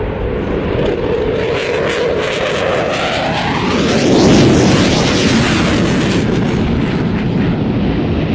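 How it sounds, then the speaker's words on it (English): Loud jet roar from a Lockheed C-130 Hercules flying a roll demo with two Austrian Air Force Eurofighter Typhoons at an airshow, swelling to a peak as the aircraft pass close by, then holding a broad sustained rumble. "here it is, that roll demo. Lockheed C-130 Hercules and two Eurofighter Typhoons from the Austrian Air Force"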